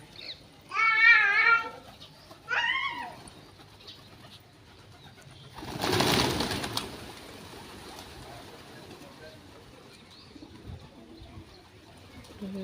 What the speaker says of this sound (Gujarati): કબૂતર શેણ ખાય છે બેઠા બેઠા